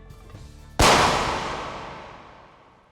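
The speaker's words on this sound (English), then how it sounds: "I shoot Diego" A single sharp gunshot fired at Diego in The Flower Collectors, loud and close, with a long reverberant tail decaying over quiet background music.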